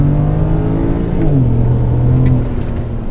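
A tuned BMW 335i with the N54 twin-turbo engine accelerates hard during a 0-100 km/h run, its loud, droning engine note rising steadily, with a brief dip at a gear change before it pulls on.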